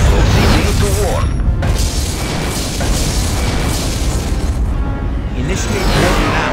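Romulan starship exploding in the Star Trek: Legacy space combat game, a loud sustained rumbling blast with bursts of debris crackle, overlaid by game sound effects and a voice speaking.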